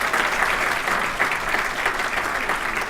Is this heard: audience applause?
yes